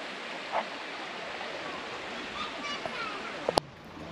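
Water flows steadily in a mountain valley stream beside a park path, a broad even rush with small splashes and a sharp click near the end.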